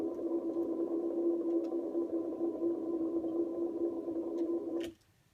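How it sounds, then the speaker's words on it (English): Ambient guitar through a Memory Man delay, a steady, hazy sustained drone of smeared feedback trails that holds evenly for several seconds and then cuts off abruptly, leaving near-silence. "little ambient guitar with like a memory man feedback trail."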